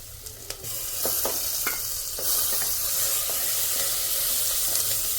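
Spice masala fries and is stirred in a pan with tomatoes for besan gatte, a loud steady sizzle running throughout while the spoon scrapes and clicks in a few quick strokes near the start.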